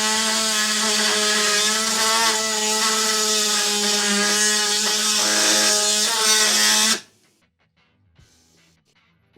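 An oscillating multi-tool cuts metal during a V8 swap on an A-body Chevrolet Nova. It gives a loud, steady buzzing whine for about seven seconds and then stops abruptly, leaving near silence.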